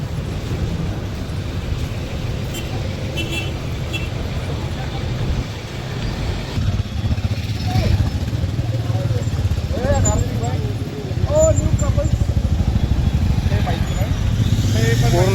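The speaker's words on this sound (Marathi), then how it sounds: "इथून हे गाडी येते" A vehicle drives onto a ferry on the Konkan coast, making a steady low engine rumble that grows slightly louder toward the end, with people talking over it.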